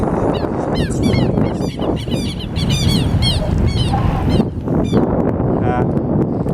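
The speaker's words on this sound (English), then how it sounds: "Birds get mad at you when you go a little too close to them, they scream at you." Agitated birds call out near a beach, honking and shrieking in repeated rapid bursts over steady wind or water noise, loud and close.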